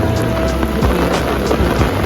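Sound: heavy rain at night at Kyaiktiyo pagoda

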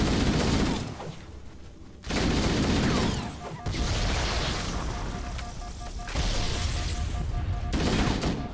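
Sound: gunfire in a video game

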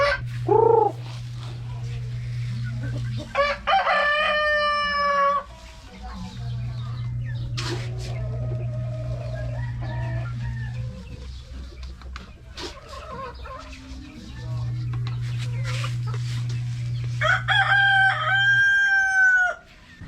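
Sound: Rhode Island Red chickens crowing

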